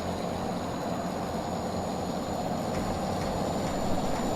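A DAF F241 truck engine in Euro Truck Simulator 2 drones as a deep, steady, low rumble at a constant level, with no talking.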